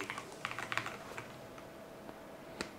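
Quiet, close typing on the keyboard of an HP OmniBook X laptop while entering a WiFi password: a quick burst of light key clicks that slows to a few scattered taps, with no talking.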